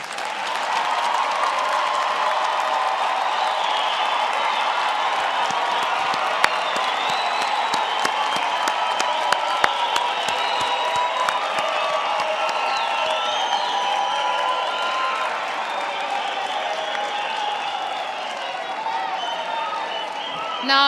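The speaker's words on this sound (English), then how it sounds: "Let's give them a big hand of applause." A graduation ceremony audience gives graduates a big round of applause, steady dense clapping from a large crowd with scattered cheers and whoops, continuous and loud throughout.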